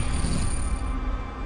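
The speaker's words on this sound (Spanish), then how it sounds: "Oye el ruido de las piedras de fondo" Stones rolling and clattering along a shallow seabed as waves wash over a shore where orcas hunt; a dense, continuous rattling rush with deep low rumble, close and steady throughout.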